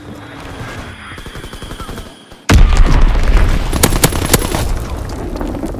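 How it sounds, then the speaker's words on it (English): An Azon bomb drop and blast in the World War II shooter Call of Duty WW2: sudden loud, booming detonation at midpoint following quieter rumbling, then continued heavy rumble with sharp crackling bursts like gunfire. "Dropping Azon bomb."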